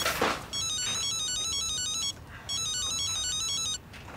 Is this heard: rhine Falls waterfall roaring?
no